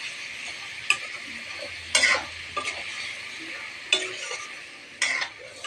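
Pre-fried potato pieces and ridge gourd, salted, are sautéed in an oiled pan: a steady bright sizzle broken by several sharp scraping stir strokes at irregular intervals, with no talk.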